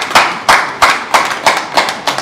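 A small group claps for actor Saidi Balogun at his 54th birthday celebration, producing loud, close, rhythmic unison claps at an even beat, about seven in quick succession.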